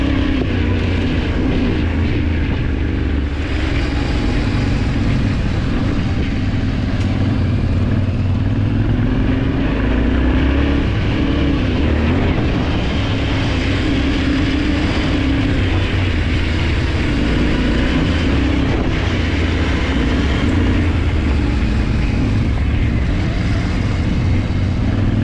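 A motorcycle ridden along a bumpy dirt track toward Lac des Sagnes in the Alps, doing small jumps over humps, its engine droning steadily and loudly throughout with rising and falling revs and constant wind rush.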